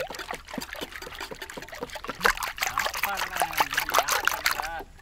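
Beaten egg trickles and pours in uneven dribbles and splashes, close up, while voices talk over it, during outdoor village cooking of a bread caramel pudding cake.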